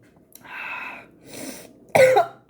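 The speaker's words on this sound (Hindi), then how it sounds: "मुझे बहुत खांसी आ रही है।" A person coughs several times in a short burst: soft, breathy hacks first, then a louder, harsher cough near the end.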